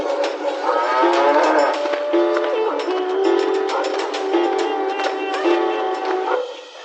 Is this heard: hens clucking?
no